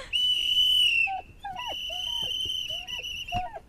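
A small toy whistle blown in a long steady shrill tone, then a series of shorter toots with pauses, close and fairly loud.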